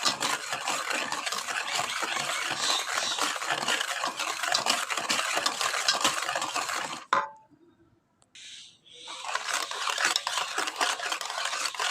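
Sugar melting into palm fruit pulp in a pan, stirred continuously with a spoon that scrapes and clinks in a rapid, busy rhythm, broken by a brief pause partway through.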